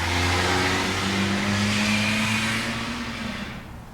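A classic car's engine revs hard and climbs through the gears, a loud steady roar with rising tones that fades slightly toward the end.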